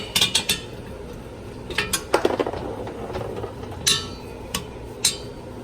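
Metal clinks and taps from fitting the top bolt of an MPX 2.5-inch race exhaust on a Fiat 500 Abarth, a handful of sharp, close knocks and rattles spaced irregularly over a quiet background.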